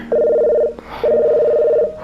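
Telephone ringing in a Minecraft Five Nights at Candy's roleplay: two long electronic ring bursts with a short gap between, loud and close, with no talk over them.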